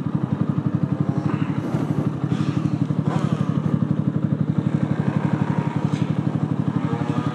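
A Yamaha YZF 125 four-stroke motorcycle with an electrical fault idles close by, its engine pulsing in a fast, steady, even rhythm throughout.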